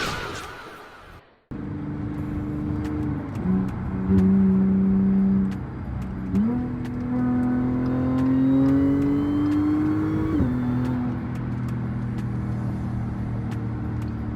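Close, loud engine note from a 400 hp supercharged S4 with an AWE catback exhaust and AWE intake on a night drive: steady revving climbs as it accelerates, then breaks off with a sharp pop and crackle at the shift before settling into a cruising drone.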